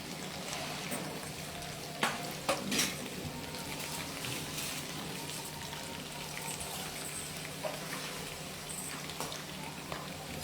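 Bread fries in a pan with a steady, faint sizzle and crackle, dotted with a few sharper pops, heard alone throughout.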